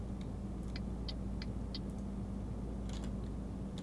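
A truck cruising on the Autobahn at about 90 km/h in Euro Truck Simulator, a steady low engine drone with a constant hum, plus a few faint clicks.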